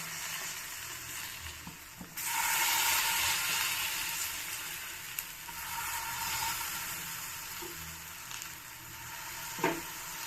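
Ragi pancake sizzling in a hot pan, a steady frying hiss that swells louder after a couple of seconds, with a few faint clicks and scrapes of handling near the end.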